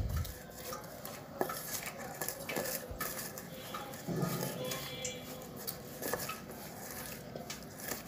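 A spoon stirs flour into a batter in a bowl for a home recipe, with steady scraping and light clinks against the bowl over about eight seconds. There is no talking.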